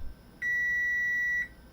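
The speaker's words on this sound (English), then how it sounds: "Alright, so timer went off." A kitchen oven timer goes off with a single sustained electronic beep lasting about a second, clear and steady over a quiet room, while eggless vegan chocolate chip cookies bake at 350 degrees.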